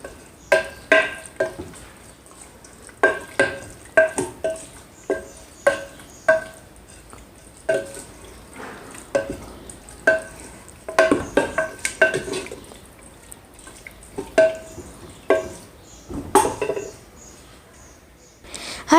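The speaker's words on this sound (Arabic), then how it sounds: "نزيد نقليه مع ذوك المكونات" Meat for mloukhia frying in a pot with other ingredients, stirred in repeated scraping, clinking strokes over a quiet sizzle, the spoon knocking the pan in uneven bursts.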